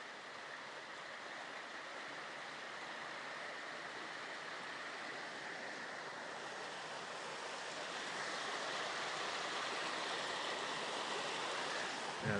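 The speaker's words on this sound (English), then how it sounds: "I'll just show you the sound of running water in case you missed it yesterday." Water runs steadily along a canal in Stoke-on-Trent, a continuous rushing hiss that grows slightly louder near the end, with no voices.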